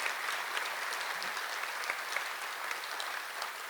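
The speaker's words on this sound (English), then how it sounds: "So if we could give Cheryl a particular round of applause." An audience at a Rhode Island AFL-CIO convention applauds Cheryl, the dense, even clapping of a large crowd continuing steadily throughout at moderate volume with no break.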